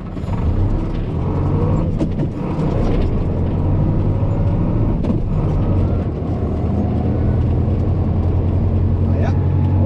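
A tractor pulling a trailer rolls in, a continuous loud engine drone with rattling and mechanical clatter held steady for about ten seconds, close to the listener.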